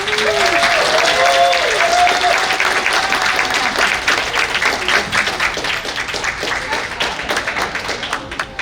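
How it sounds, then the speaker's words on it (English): Audience applause fills a company annual general meeting, steady clapping from a room full of people that carries on throughout and thins slightly toward the end, with a voice briefly audible at the start. "So a round of applause for Alex."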